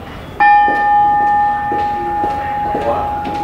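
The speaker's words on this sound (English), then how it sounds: "See how it just keeps reverberating like a Buddhist bell?" A single bell is struck once and rings on with a long, sustained, slowly fading tone like a Buddhist bell, with faint room noise underneath.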